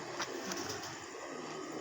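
A soft pigeon coo sounds faintly against a steady low background hum, with no talking.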